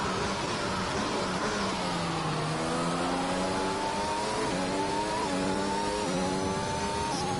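Formula 1 car engine at full throttle in the F1 2021 racing game at the Saudi Arabia circuit, a loud high-pitched whine rising through the gears in continuous revving sweeps.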